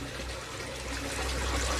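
Liquid fertiliser poured into the water inlet of a hydroponic vegetable bed, giving a soft continuous trickle and splash of liquid into water, steady and fairly quiet with no voices.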